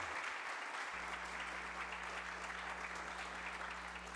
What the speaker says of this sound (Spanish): Creo que alcanza a escuchar el aplauso para los que están.